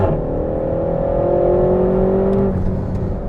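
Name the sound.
RenaultSport Megane Trophy engine accelerating on track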